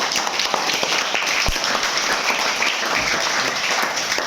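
A classroom of children claps together for a classmate during a spoken English activity, a dense, loud, steady patter of small hands close by with no talking over it.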